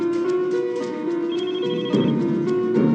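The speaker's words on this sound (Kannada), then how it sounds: "ರಿಂಗ್ ಮಾಡಿ ಮತ್ತೆ ಕಟ್ ಮಾಡ್ತೀನಿ" A telephone ringing continuously for about three seconds in a steady electronic ring pattern, loud and close, with no voices over it, as in a Kannada crime drama scene.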